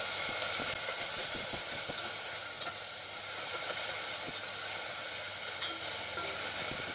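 Green and yellow bell peppers searing in a hot pan give a continuous, fairly loud steamy hiss and sizzle with faint scrapes, steady throughout and with no voices.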